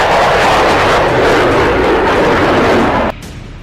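A fighter jet roars loudly and continuously at close range, a dense broad rush of engine noise that drops off abruptly near the end.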